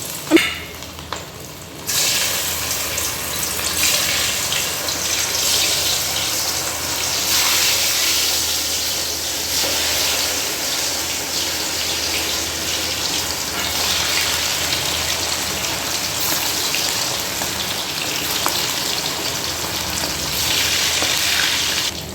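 Beef tikka pieces sizzle and fry steadily in hot ghee, a loud, continuous crackling hiss that starts after a brief quiet moment and holds close up throughout, with no talking.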